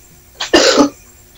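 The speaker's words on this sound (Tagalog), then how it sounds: "Ay, may umubo." A single sharp cough, close and loud, with a short breathy lead-in just before the main burst, then quiet; no talking.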